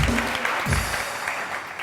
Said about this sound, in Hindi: तालियां बजती इस बात पे